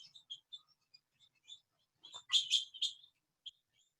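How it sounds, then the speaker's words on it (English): Birds chirp outside in short, faint, scattered tweets, then a brief burst of several louder, sharper calls near the middle before thinning again to sparse distant notes in an otherwise quiet space. "Maybe birds."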